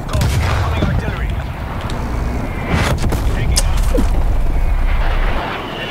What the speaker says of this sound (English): Artillery targeting detected. Stun incoming. Death call. Incoming artillery.